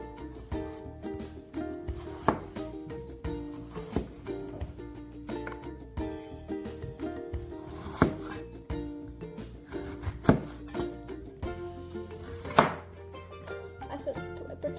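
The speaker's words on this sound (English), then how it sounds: "now let's get to cutting our onions" A knife chops onions on a board for a BBQ chicken pizza, with sharp, irregular close-up cuts over steady background music.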